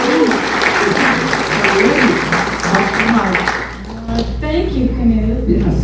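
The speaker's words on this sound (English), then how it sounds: "Give her a round of applause." Audience applause fills the room at an Appalachian storytelling stage event, a steady wash of clapping that continues strongly and steadily, with a voice speaking over it near the end.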